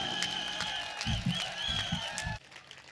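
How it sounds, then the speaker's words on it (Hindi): Applause from an audience at a Hindi-Urdu literary poetry gathering, a burst of clapping lasting about a second and a half, moderately close, over steady hall ambience and then cutting off abruptly. "अब आपकी तालियों की गूंज बताएगी कि आप कितनी देर उन्हें सुनना चाहते हैं।"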